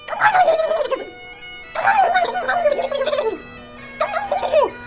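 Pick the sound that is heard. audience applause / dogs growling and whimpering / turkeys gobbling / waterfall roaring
turkeys gobbling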